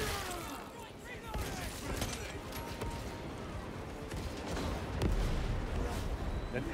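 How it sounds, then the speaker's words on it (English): Tanks fire in the Warhammer 40K Space Marine 2 video game, a dense barrage of heavy booming blasts and crackling impacts that rolls on continuously, loud and chaotic throughout. "The tanks are actually shooting"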